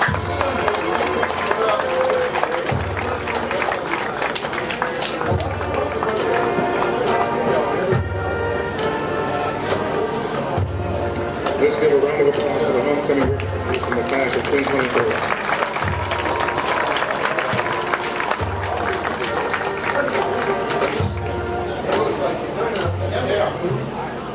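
A large audience at a 2023 Springfield High School football homecoming court presentation applauds and cheers at length, with crowd noise and a steady thumping bass beat underneath.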